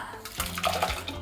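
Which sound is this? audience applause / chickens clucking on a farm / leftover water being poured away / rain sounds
leftover water being poured away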